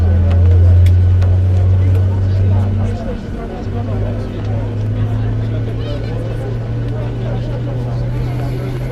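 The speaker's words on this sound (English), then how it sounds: "Starting engine 2." An airliner engine starting up in Microsoft Flight Simulator gives a loud, steady low drone with a constant rumble underneath that keeps going throughout.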